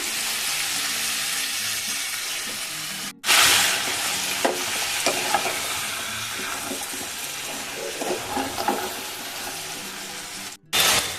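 Eggplant, taro, kundri and radish fry together in a pan with a steady bright sizzle, broken by stirring scrapes and two brief pauses.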